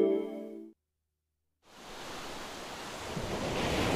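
Ocean waves wash onto a beach as a radio ad effect, a broad steady surf roar that swells in after a short silence and builds slightly, following a brief musical tone.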